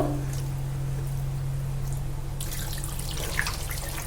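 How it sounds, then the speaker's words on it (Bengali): Hot water being poured into a meat curry, a steady close rush of running water with a low hum underneath that fades partway, then brighter splashing, and no voices. "এবার কিন্তু এই গরম জলটা আমি মাংসের মধ্যে অ্যাড করবো"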